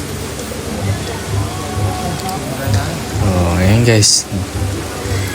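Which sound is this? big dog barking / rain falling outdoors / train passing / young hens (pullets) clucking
rain falling outdoors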